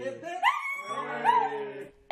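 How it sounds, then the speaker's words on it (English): A pet dog sings along in a long, wavering howl that climbs and swoops to high notes, with a clear tonal voice sustained for nearly two seconds before a brief new yelp at the end. "This adorable singing pup just loves to hit a high note."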